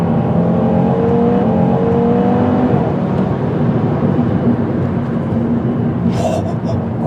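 A 2025 Audi RS3 accelerating hard in S mode, a loud continuous engine drone with rising harmonics heard from inside the car, steady throughout with a brief faint click near the end.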